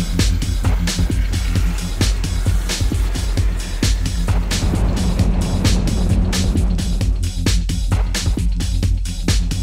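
Three automatic scooters, a Yamaha Gear 125, a Honda BeAT and a Suzuki NEX II, climb a hill. Their engines drone steadily and fairly loud throughout, with a rough, continuous motor hum and faint wind noise.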